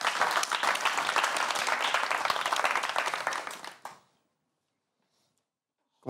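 An audience claps and applauds at a French talk show, a dense, loud burst of clapping lasting about four seconds before cutting off into near silence.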